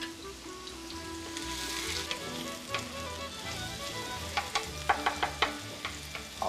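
Onion fries in heated oil in a pan, producing a steady close sizzle with a run of sharp spoon taps and scrapes toward the end.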